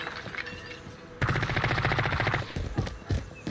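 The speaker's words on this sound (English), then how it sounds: "Assault rifle." Assault rifle firing in Call of Duty: a loud, rapid full-auto burst of close gunshots running about a second, followed by a few scattered single shots and impacts.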